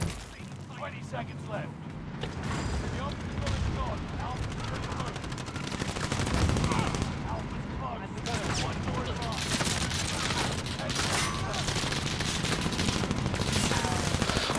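Rapid machine gun fire rattles almost nonstop in a Call of Duty match, dense overlapping bursts and booms, loud and close, with voices talking over the shooting throughout.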